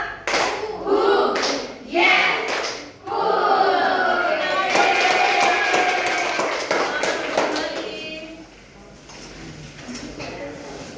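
Rhythmic clapping game in a primary school classroom: a few separate group claps, then a stretch of mixed voices and clapping from many children, fading toward the end.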